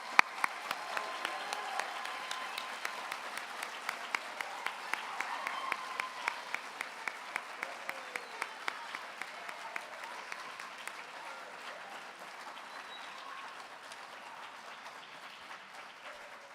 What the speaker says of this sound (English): Please give a round of applause for our 2022 NHS inductees.